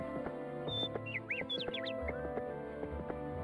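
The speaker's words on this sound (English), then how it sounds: "These bird sounds." Bird chirps and tweets as ambient sound in the Heroes of Might and Magic strategy game: short, bright, scattered calls over a steady low background hum, moderately loud and close.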